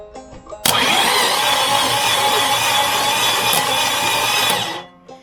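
A new starter cranking a 1965 Chevy 283 V8 whose engine spins freely without firing, a loud, steady whirring crank lasting about four seconds before cutting off.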